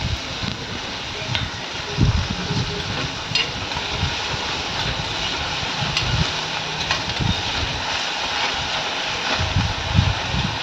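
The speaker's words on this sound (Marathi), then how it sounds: "कांदा आणि मिरची तेलामध्ये छान परतता" Chopped onion and green chili sautéing in hot oil with salt while making sea fenugreek greens, a steady sizzle with intermittent scraping and stirring, close and moderately loud, with no talk.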